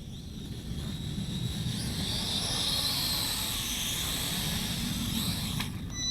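A V636 toy quadcopter flying in a pylon race gives a steady high-pitched whine with a broad motor hum beneath, holding loud and constant, with pitch rising slightly midway as it speeds up.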